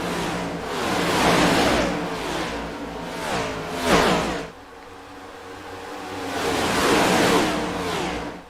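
NASCAR race cars lap the 2.5-mile Daytona tri-oval in the iRacing sim game. Loud, rising and falling engine drones sweep past in waves, with a brief lull midway and a harsh scraping edge to the roar.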